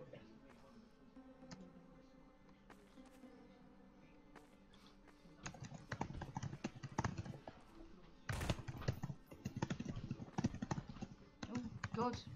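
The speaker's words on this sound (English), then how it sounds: "she's typing a bloody essay again" Fingers type on a computer keyboard during an online Garry's Mod game session, with quiet, scattered keystrokes that grow into dense, rapid clattering bursts of clicks, up close.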